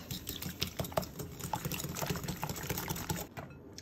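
An electric mixer beats eggs and sugar for an almond Moroccan baba cake, a steady whirring hum with a rattling, clattering texture of beaters against the bowl, loud and close throughout with no talking.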